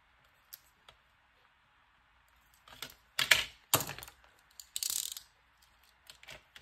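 Scissors snip through magazine paper in a few quick bursts, with sharp rustles and cuts clustered in the middle, preceded by faint isolated clicks and no talking.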